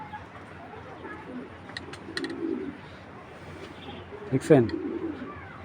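A female Military breed pigeon coos in short, soft, throaty bursts, with a louder coo near the end, close by, while someone speaks briefly.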